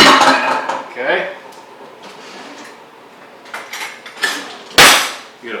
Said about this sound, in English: Get a fork, spread everything out.